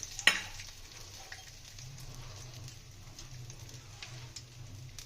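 Cabbage goes into hot oil left from frying fish heads, giving a faint, steady sizzle after a sharp clatter at the start, quiet and without speech.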